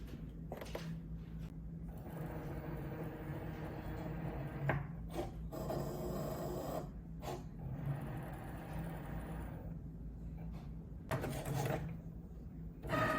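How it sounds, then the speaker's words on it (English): A Cricut cutting machine cuts a vinyl design loaded on its mat, giving a steady mechanical whir and rubbing hum with short bursts of carriage movement, close and continuous with no talk. "Once our mat has been measured, we can start the cut."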